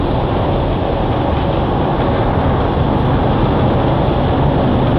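Steady, loud broadband rumble of a truck cab while driving, a dense engine and road drone filling the cabin without letup and without any voices.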